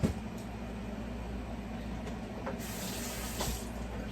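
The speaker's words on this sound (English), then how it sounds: "all I'm doing is just rinsing the juice from off of this, off the corn" Tap water running and splashing in a kitchen sink while corn is rinsed of its juice, a steady low wash that grows brighter and louder for the last second and a half.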